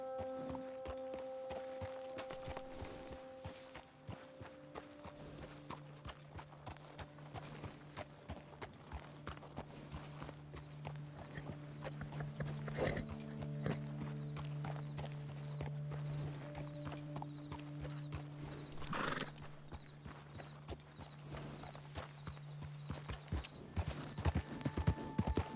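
A horse's hooves clip-clop at a steady walking pace in the Red Dead Redemption 2 video game, close and continuous over quiet tonal game ambience, with a few louder thuds.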